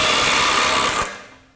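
DeWalt DCF902B subcompact impact driver hammering in a loud, close, rapid rattling burst that cuts off after about a second and trails away.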